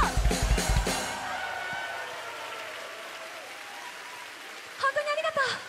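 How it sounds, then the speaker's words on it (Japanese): A concert audience at a live show claps loudly, then the applause fades into a quieter stretch before a second burst of clapping with cheering near the end. "ちゃんとニーナにも大きな拍手ありがとう。"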